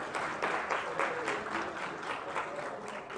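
An audience at an accounting standards event claps in steady, moderate applause that fills the room from a little distance, with no one talking over it.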